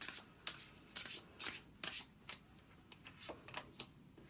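Tarot cards being shuffled in a series of quick riffling bursts, close and fairly crisp, with short pauses between them and no talking.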